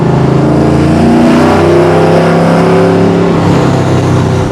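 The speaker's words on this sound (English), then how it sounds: "Now we're in fourth gear. We're going 50 miles an hour and just cruising like a normal truck." A 1000-horsepower patina C10 pickup engine cruises steadily in fourth gear at about 50 mph, producing a loud, continuous rumbling drone with stable tones and little variation throughout.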